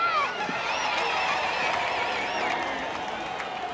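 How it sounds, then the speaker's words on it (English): Townspeople cheer and clap along the course of a lizard race, a loud, continuous crowd roar with scattered whoops and voices mixed in. "Half the town has turned up to cheer them on their way"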